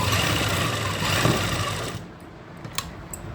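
Sewing machine stitching around a kurti neckline runs loud and continuous for about two seconds, then stops, leaving quieter handling noises and small clicks up close.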